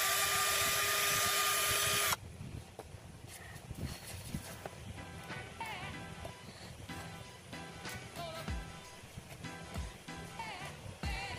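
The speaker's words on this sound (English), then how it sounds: "Drill this side out." A steady high whine for two seconds, then uneven grinding and crunching with scattered knocks as a drill bites into the wood of a 1930s antique vanity.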